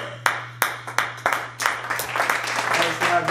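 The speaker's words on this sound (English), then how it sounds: "Let's give it a round of applause for Nielsen Hiles." A studio audience claps and applauds a talk-show guest, opening with several sharp isolated claps that quickly swell into steady, dense applause lasting a few seconds, fairly close and loud.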